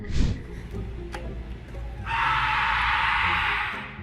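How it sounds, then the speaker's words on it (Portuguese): An elderly woman screams in fear of the darkness, a recording of an unknown entity's cry: a short yelp at the start, then a sustained, harsh scream partway through over a steady low background rumble. "esse grito de alguma entidade desconhecida na escuridão tenha assustado muitas pessoas online"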